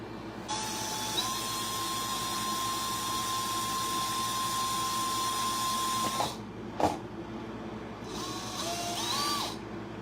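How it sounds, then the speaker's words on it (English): A small electric drill spinning a pin file in reverse whines at a steady high pitch for several seconds, stops, then briefly buzzes again in short bursts, close and fairly quiet. "I put a pin file inside of drill, and then I go only in reverse"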